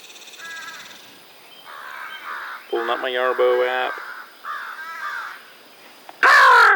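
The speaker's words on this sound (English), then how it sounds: "Oh, crazy crows." Crows caw outdoors in several harsh, loud bursts over a steady insect and cricket hum, with someone speaking briefly between the calls.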